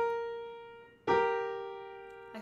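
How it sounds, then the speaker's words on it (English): An ascending minor third for voice musicianship study: a steady lower tone, then a brighter higher note attacked about a second in and left to decay, with a faint new onset right at the end. "Now, likewise, a minor third going up, ascending, sounds like this."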